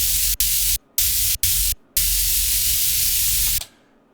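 Electricity effect built from equalized white noise: a loud, dense crackling hiss in several bursts with abrupt cutoffs, then a long sustained stretch that ends suddenly.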